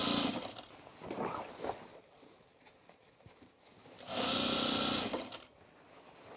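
A sewing machine runs in two loud bursts while it stitches the long side seam of a pair of overalls, with a quieter stretch of fabric handling and a pause in between.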